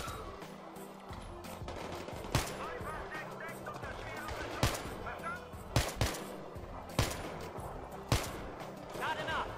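Gunfire in the video game Battlefield 3, played in co-op, with several sharp, loud shots at irregular intervals over busy in-game background noise and faint voices.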